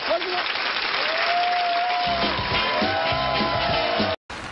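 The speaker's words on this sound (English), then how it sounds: "A round of applause for Christopher Hitchens" Studio audience applause and some cheering for a speaker, with a voice talking over the clapping, cut off abruptly near the end.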